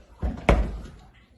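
A refrigerator door being cleaned swings shut with a soft thump followed by a sharper, louder knock, then fades to quiet, close by.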